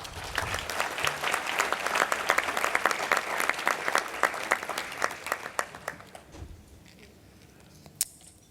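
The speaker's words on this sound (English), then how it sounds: "Let's applaud." Applause from a gala audience at the 2017 NOMA conference, a crowd clapping briskly with sharp individual claps, then thinning out after several seconds to a few scattered claps and one late single clap.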